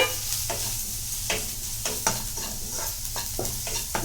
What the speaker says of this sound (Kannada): ಇವೆಲ್ಲ ಹಾಕಿ ಒಂದ್ಸಲ ಫ್ರೈ ಮಾಡ್ಕೊಳ್ಬೇಕು